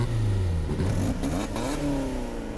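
Lotus Elise Sport 240 Final Edition or Caterham Seven 485 R accelerating hard in a 1000-metre drag race, a loud steady engine roar rising in pitch through the revs with a gear change, heard from close by with no talk.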